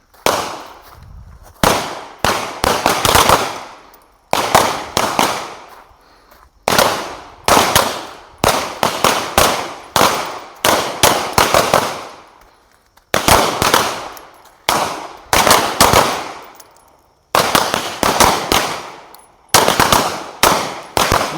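Handguns fire in rapid strings of sharp, loud shots during a practical shooting drill at a grand master seminar. The bursts are separated by brief pauses and repeat steadily, with no talking.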